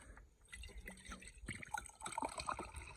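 Liquid poured from a beaker during gold recovery from crushed rich ore, a wet, uneven trickle and splash lasting a few seconds, moderately close with faint clinks.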